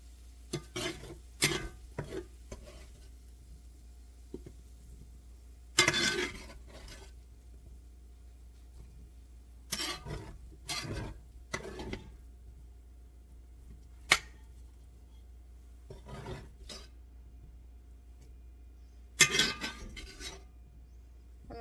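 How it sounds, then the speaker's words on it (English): Cooked pork moved from a cast iron skillet into an oversized saucepan, heard as scattered scrapes, clinks and thuds of a utensil against metal between quiet gaps, with faint sizzling in the background. "I'm going to start just taking the meat from my cast iron skillet and putting it into my saucepan"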